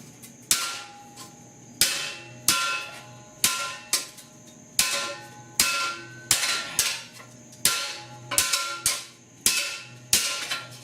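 A hammer strikes a metal seatbelt mount during 3-point seatbelt installation on a 1966 Ford F100, giving about sixteen sharp, ringing blows at an uneven but steady pace, close and alone.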